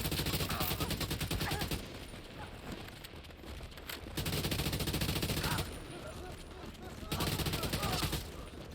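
An AK rifle in The Division 2 fires in long, rapid automatic bursts that crackle hard and close, separated by short lulls where quieter game sounds carry on.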